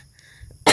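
A single sharp, loud cough bursts out near the end after a quiet stretch, close and alone with no talk around it.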